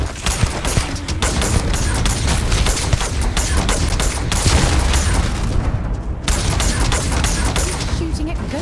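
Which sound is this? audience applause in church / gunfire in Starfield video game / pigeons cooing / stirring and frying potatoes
gunfire in Starfield video game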